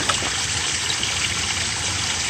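Water flowing between connected garden ponds, a constant close rushing trickle with a broad, even splash that holds steady throughout with no talk.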